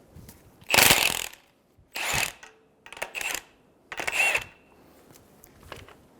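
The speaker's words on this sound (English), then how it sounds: "Using an 18mm socket, remove the top nut for the strut." A ratchet with an 18mm socket loosens the strut top nut on a 2000–2007 Ford Focus. Four or five short bursts of rapid clicking are separated by quiet pauses, loud and close.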